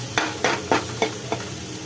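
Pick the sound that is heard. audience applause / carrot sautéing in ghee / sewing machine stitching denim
carrot sautéing in ghee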